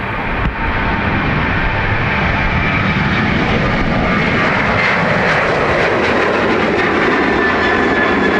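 A Ryanair jet airliner bound for Beauvais moves at Dublin Airport. Its loud, steady engine roar fills the whole stretch, swelling slightly toward the end, heard up close and with no voices.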